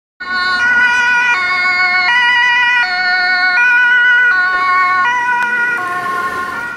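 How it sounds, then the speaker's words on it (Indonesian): A toy ambulance siren plays loud and close, a bright electronic two-tone wail that alternates in a regular rhythm throughout, with no one speaking over it. "ada mobil ambulan"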